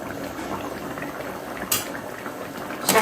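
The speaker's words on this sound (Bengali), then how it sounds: "আমি আর 5 মিনিট মতন ফুটিয়ে নেব" Potato and egg curry simmering uncovered in a pot, giving a steady close bubbling and hissing boil, with a couple of brief louder clinks or splashes near the middle and the end.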